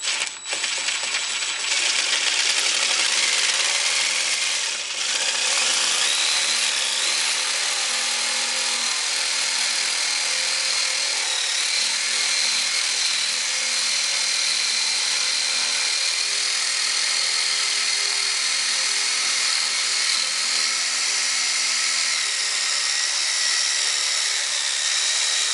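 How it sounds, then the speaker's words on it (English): Drill bit grinding into the set screw of a 2003–2007 Honda Accord brake rotor, a steady, loud high-pitched whine with metallic rattle held continuously for the full stretch with no pauses. "If I can get the drill bit to stay still."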